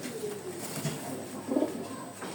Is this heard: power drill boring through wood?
no